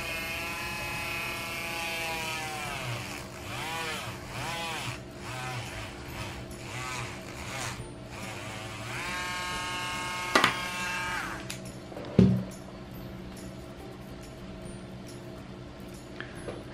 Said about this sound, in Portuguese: a lixadeira aqui não tem uma potência muito grande, mas dá pra fazer essa parte de furar tranquilamente